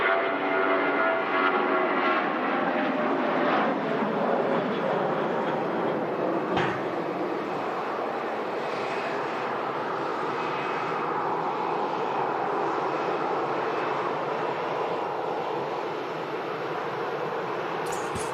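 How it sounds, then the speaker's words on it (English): A louder passenger plane takes off from Manchester Airport bound for Vienna, its steady broadband jet roar holding loud and unbroken for the whole stretch with no talk over it. "Bit of a louder plane taking off now, heading out to Vienna."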